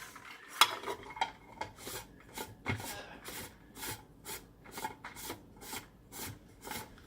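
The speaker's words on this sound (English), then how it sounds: "stir it a little bit" A spoon scrapes and rasps rhythmically against the inside of a lidded cup of Keurig-brewed sweet tea, steady repeated strokes close by with no talk.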